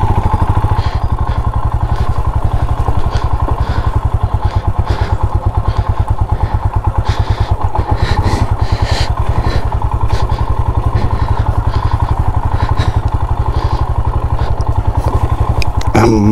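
A motorcycle ridden along a wet mountain road in Nepal gives a loud, steady engine drone with rapid rhythmic pulsing and occasional clatter, continuous throughout.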